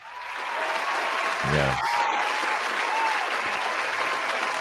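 A studio or live-show audience at a wrestling talk show claps in a steady, moderately quiet wash of applause, with a brief spoken interjection partway through.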